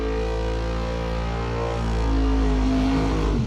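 Box door drag racing cars roar loudly and continuously as they accelerate down the strip, engine drone rising and swelling toward the end with no talking.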